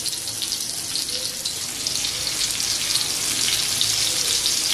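Karli fish fry in hot oil, a steady, dense sizzle and crackle that holds close and even throughout, with no talking.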